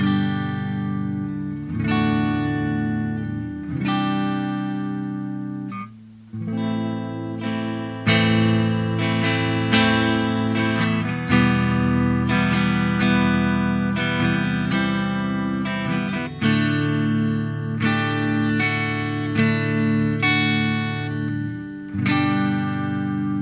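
An electric guitar on the neck pickup plays clean tones through a Joyo Zombie 2 amp head, with ringing, sustained chords and melodic notes carrying light reverb and echo, played alone throughout.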